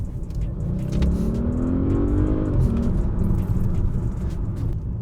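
A 2016 Audi S8 accelerates from 50 to 70, its engine a deep steady rumble heard from inside the cabin with a rising note climbing through the gears.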